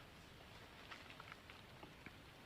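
Rain falls steadily on a four-rai mixed forest garden planted with edible and useful trees, a faint constant hiss with occasional distinct drops, no voices.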